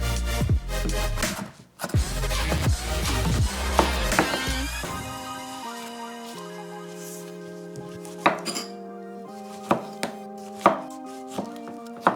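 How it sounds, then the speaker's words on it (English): A knife chopping peppers on a cutting board for tacos gobernador, heard as a dense run of cuts early on and then a few separate sharp knocks spaced out over a melodic background. "Time to chop up the peppers."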